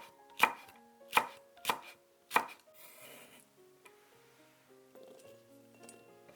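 Four sharp, evenly spaced knife chops land on a cutting board as garlic cloves are minced for a pork saté stir-fry, followed by quieter scraping and light rustling.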